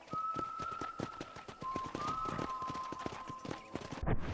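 Horse hooves clip-clop steadily at a ride in the Red Dead video game, a brisk rhythmic series of close hoof falls with a whistle-like tone running over them and a louder burst near the end.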